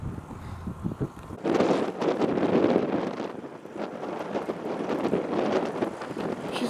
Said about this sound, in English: The wind coming in off the North Sea